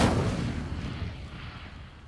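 A fire spell cast in Hogwarts Legacy, a burst of roaring, crackling flame rushing out at once and then slowly fading, loud and close with no talking.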